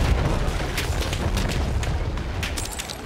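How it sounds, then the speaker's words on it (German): A grenade explosion in Battlefield 1 rolls out as a loud, sustained rumbling roar of dense battlefield noise, with a few sharper cracks near the end. "Ich werfe Granate!"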